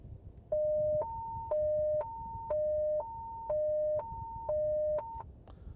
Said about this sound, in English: as long as you're pressing the transmit button, it will sound the emergency tone